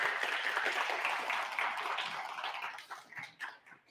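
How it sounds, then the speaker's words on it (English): Audience applause at a science fair keynote and magic show, a dense patter of clapping that gradually thins out into a few scattered claps. "Everyone give Julie a round of applause."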